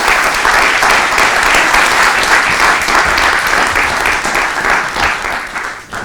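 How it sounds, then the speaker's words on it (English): Sustained conference audience applause, a dense steady wash of clapping that holds loud and even for several seconds before easing slightly at the end. "So a round of applause."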